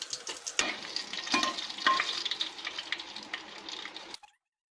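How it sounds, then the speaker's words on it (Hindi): Whole spices crackle in hot oil on a low flame for vegetable biryani, a busy close sizzle with sharp spatters and stirring clicks that cuts off abruptly near the end. "1 मिनट मसालों को भून लेते हैं और फिर प्याज डालेंगे।"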